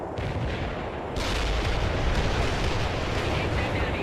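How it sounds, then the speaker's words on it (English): Medium artillery fire in the World in Conflict strategy game, with heavy rumbling barrages and explosions that thicken into a dense, loud roar after the first second and continue through to the end. "Medium artillery orders received."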